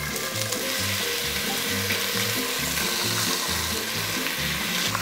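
Chicken pieces searing in hot oil in a pot for seco de pollo, a loud continuous sizzle and crackle with a low rhythmic hum underneath, steady throughout without speech.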